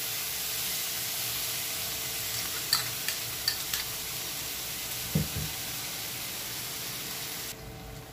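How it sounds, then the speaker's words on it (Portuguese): Onion frying in a pan together with a prepared sauce for steak: a steady, soft hiss of sizzling with a few faint clinks of stirring, heard alone without talk. "E vamos deixar ele fritando junto com a cebola."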